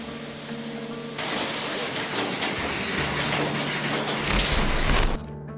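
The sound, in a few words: hailstorm hitting a car, dashcam recording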